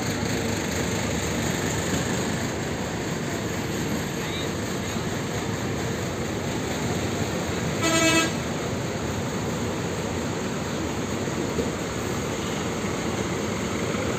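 Bus departing Tanjung Priok bus terminal, a single short horn toot sounding midway over a steady, fairly quiet wash of engine idle and terminal background noise.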